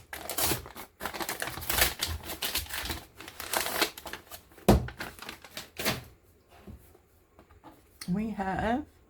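Olive wrapping paper crinkles and tears in bursts as a book is unwrapped, loud and close, with pauses between rustles and a person speaking near the end.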